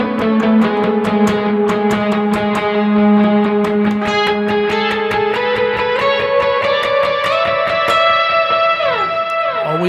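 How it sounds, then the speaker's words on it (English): An electric guitar plays a sustained worship-style lead line through reverb, delay and octave effects, with steady repeating notes, long ringing trails and a constant, fairly loud level. "I'm grabbing a reverb sound, a delay sound, and if I want to grab an octave sound to create a lead line"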